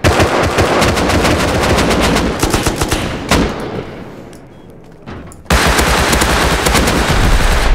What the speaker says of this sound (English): I just shot a rocket at him.